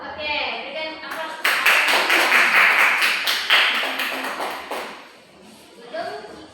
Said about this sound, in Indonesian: Oke, berikan aplaus.